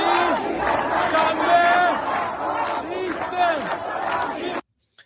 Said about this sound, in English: this chant is saying this nation will not become a nation until the mullahs are dead